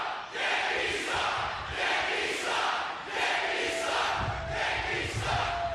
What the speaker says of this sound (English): Now you can hear what our crowd in Massachusetts thinks of the New York contingent